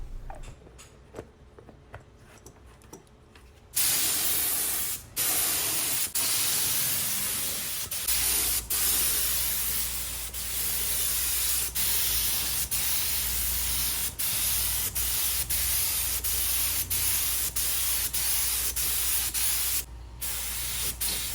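A paint spray gun spraying thinned paint onto a large French Provincial bedroom furniture set, a steady loud hiss that starts abruptly and runs continuously with brief interruptions and clicks, close and without talk.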